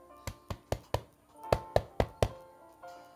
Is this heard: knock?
yes